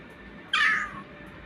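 A summoned cat in the Solo Leveling Arise video game gives one clear, close meow of about half a second over a quiet background hum.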